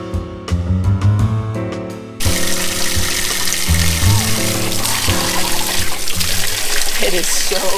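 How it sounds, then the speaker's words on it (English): Cold mountain spring water flows straight from its source in a Peloponnese village in southern Greece, a steady splashing trickle under talking and background music. "comes straight from the source, the springs, from the mountains"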